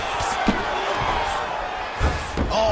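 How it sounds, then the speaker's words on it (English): An arena crowd at an MMA bout roars steadily as two fighters get back to their feet after a grappling exchange on the ground, a dense, sustained swell with a few thuds and a commentator talking over it. "big pop from the crowd as they get back to their feet after a pretty scintillating grappling battle there on the ground"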